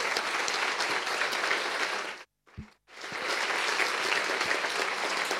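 A seated audience at a Spanish-language public event claps loudly and steadily, broken by a brief silence, then resumes just as strongly.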